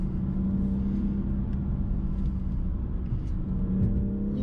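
BMW M240i engine pulling steadily under load in a higher gear, a continuous close low rumble with a faint rising tone and no break for the whole stretch.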